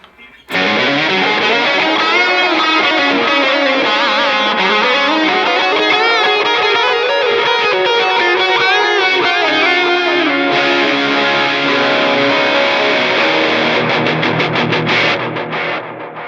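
Electric guitar played through a Flamma tape-mode delay into a Flamma cave-mode reverb, placed in the FX loop after the cabinet block; a sustained, distorted, heavily echoing line plays loud and continuous, alone without talk.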